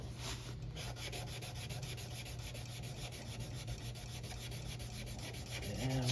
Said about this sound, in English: And just give that a light little sanding.